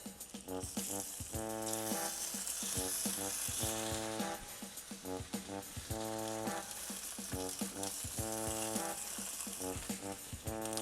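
Thin-cut potatoes frying in a cast iron pan, a steady close sizzle and hiss under recurring tonal bursts, with slices layered around the pan as someone talks over it.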